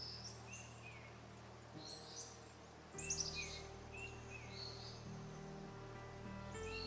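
In a quiet Amazon rainforest, faint distant bird calls chirp and whistle in scattered short phrases over a low, steady hum of insects.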